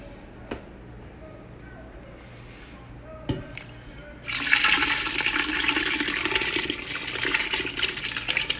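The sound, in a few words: seafood stock poured into roux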